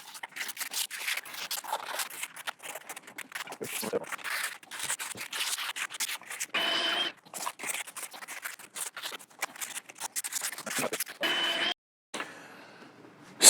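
Hand sanding of a resin and acrylic pour art piece: steady scratchy rubbing strokes in quick rhythm, close and fairly loud, pausing briefly near the end.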